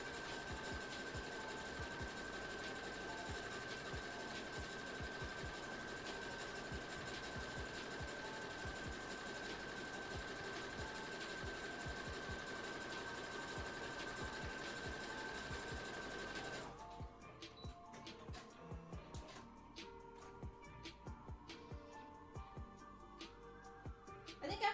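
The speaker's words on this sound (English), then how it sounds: "I'll sew the rest of them later" A sewing machine stitches cosplay fabric with a steady mechanical whir for about seventeen seconds, then stops, leaving faint clicks and handling noises. The sound is quiet and close.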